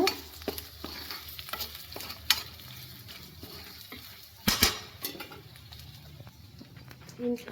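Chicken fried rice frying in a pan, with a soft continuous sizzle broken by sharp spatula scrapes and clanks, one loud knock midway, and a dove cooing faintly in the background.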